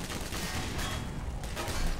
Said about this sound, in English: You guys don't need to be shooting that much